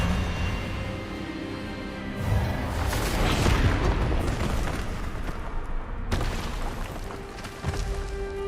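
A spell is cast in the Hogwarts Legacy video game on PS5: a heavy burst of crackling, booming magical energy swells near the start and returns as a sharp second blast, set against a steady bed of game sound.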